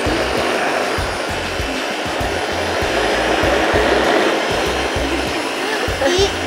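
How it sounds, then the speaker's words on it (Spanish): A countertop blender whirs loudly and steadily, mixing cake batter made with hot cake flour; the motor drone holds constant and close for the whole stretch. "vamos a licuar"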